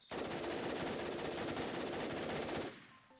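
Rapid automatic gunfire from a shooter video game on a Thai run-and-gun server, one loud, dense, unbroken burst lasting about two and a half seconds before cutting off abruptly.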